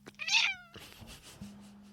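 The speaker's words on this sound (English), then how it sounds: "Nothing like having a very furry cat who is shedding walk across your microphone and rub up against it." A very furry, shedding cat walks across a microphone and rubs against it, giving a sharp close meow followed by muffled rubbing and brushing noises against a steady low hum.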